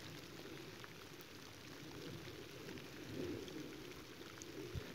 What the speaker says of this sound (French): je suis en train de prendre une bonne averse